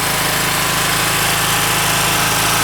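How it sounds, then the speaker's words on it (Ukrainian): A 2.8 kW OKAY generator with copper windings and AVR stabilization runs steadily, its engine droning loud and continuous with a low mechanical hum and no talking. "І тепер давайте включаємо альтернатор."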